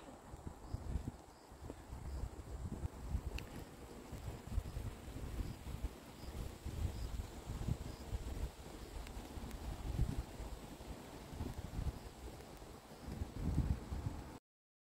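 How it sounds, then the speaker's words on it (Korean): Gusty wind buffets the microphone on a mountain trail near sunset, producing a steady low rumble with irregular surges and faint rustling, quiet and continuous with no one talking. "바람 적당히 불고"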